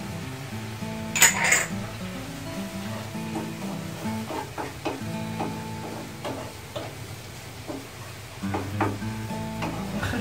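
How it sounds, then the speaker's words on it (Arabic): Onion and garlic frying in a mix of butter and oil, a steady close sizzle broken by scattered clinks and scrapes of a utensil against the pan. "نخليها تقلى مزيان"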